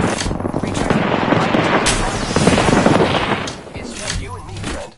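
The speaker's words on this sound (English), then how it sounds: "Throwing thermite grenades!" Thermite grenades thrown in Apex Legends land amid loud, dense combat, a continuous crackling burst of gunfire and fiery impacts that dips briefly near the end before rising again, with shouted voices over the chaos.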